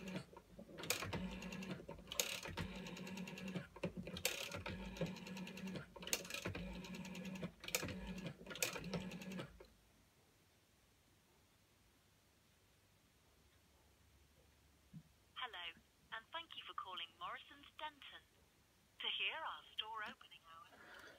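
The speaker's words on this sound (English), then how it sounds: "So as you can see, it does dial out." A 1980 ivory GPO 741 wall-mounted telephone dialed with its rotary dial gives rapid rhythmic clicking bursts, then falls quiet before a voice speaks over a line, with someone talking nearby.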